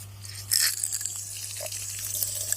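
Irrigation water without fertilizer running from a strawberry field injector line, a steady rushing and splashing flow over a constant low hum, with a brief louder gush near the start.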